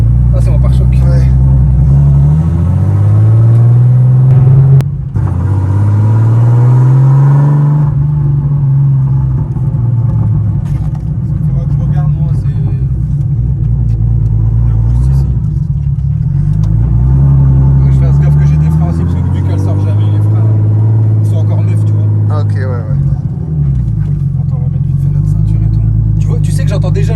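A turbocharged BMW E36 pulls hard through several rising and falling rev sweeps while driving, its engine droning loudly inside the cabin, with people talking over it.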